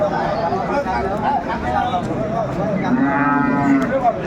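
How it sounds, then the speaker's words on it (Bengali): Friesian-Sahiwal cross cattle lowing close by at Aftabganj cattle market, Dinajpur, a drawn-out moo rising near the end, with people chattering in the background. "আমরা দেখছিলাম এখানে বেশ সুন্দর গাভী বাছুর ফ্রিজিয়ান সাইওয়াল মিক্সচার"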